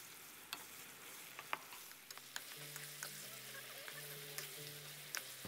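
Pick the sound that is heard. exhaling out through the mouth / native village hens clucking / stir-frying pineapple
stir-frying pineapple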